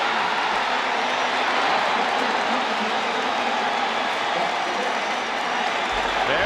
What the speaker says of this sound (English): There's some Kansas City fans here who cheer the Burden score to tie it at 13